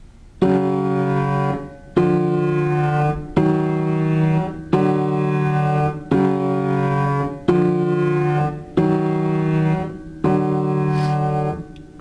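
A series of sustained piano chords from the Steven Universe theme played evenly, roughly eight strikes with short gaps between them, resonant and near with no talking.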